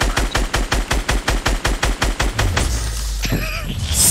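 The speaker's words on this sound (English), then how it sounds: "Just the constant minigun." A minigun fires in Fortnite in a rapid, evenly spaced burst of loud, punchy shots for about two and a half seconds, then gives way to a lingering rumble and faint whine.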